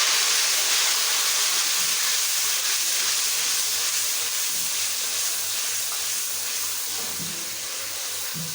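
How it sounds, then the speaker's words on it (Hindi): Tomatoes hit frying garlic and ginger in a hot pan, giving a continuous broad hiss of sizzling that stays even and fairly close, fading slightly toward the end. "लहसुन अदरक अच्छी तरह से फ्राई हो गया है, साथ ही टमाटर डाल दें"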